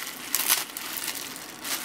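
Large plastic bag wrapping flake tobacco crinkles softly in short, close rustling bursts, with no talking.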